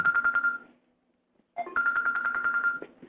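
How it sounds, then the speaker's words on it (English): A cell phone rings with an incoming call: a bright, repeating electronic ringtone plays loudly, pauses for about a second, then starts again. "Oh, somebody's trying to call me. I got it"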